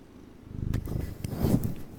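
A domestic cat purrs close to a microphone, a low rumbling vibration swelling and easing over two seconds, with faint handling bumps.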